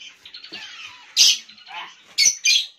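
A talking hill myna makes a run of squawks and whistled chirps at close range, with two sharp, loud calls near the end.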